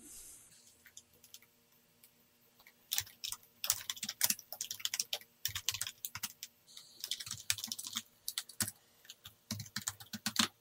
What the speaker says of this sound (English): Now I can type into this file.